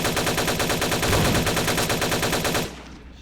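Gunfire in Vampire the Masquerade Bloodlines: a loud, steady, rapid automatic burst repeating evenly for almost three seconds, then cutting off abruptly into quiet.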